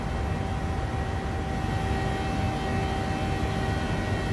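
Steady, loud roar of a Boeing 737-800 freighter jet during takeoff and climb, broadband engine noise with faint tonal whine holding constant throughout, no talk.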